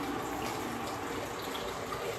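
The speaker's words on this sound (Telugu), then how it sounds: "we have hot water now, let's pour the water in to this" Hot water is poured from a tap into a bowl while preparing Telangana mutton curry, making a steady, close gushing splash that runs unbroken throughout.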